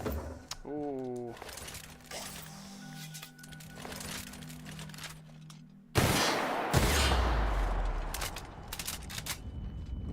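Gunfire from a weapon in the sci-fi video game The Outer Worlds, a burst of loud shots in the second half crackling over a low rumble, with game sounds and a brief tonal sweep before it.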